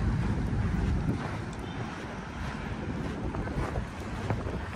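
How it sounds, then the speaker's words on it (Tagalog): Blustery wind buffets the microphone with a constant low rumble and gusty swells over the open water of Manila Bay, with no voices. "Ayan na, mahangin na."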